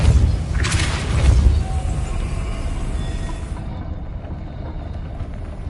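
A Depulso spell cast in Hogwarts Legacy, a deep booming blast with rumbling low end that fades into a lingering hum, fairly loud and without speech.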